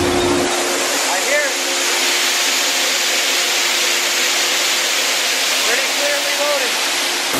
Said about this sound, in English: you can hear the grain coming down in there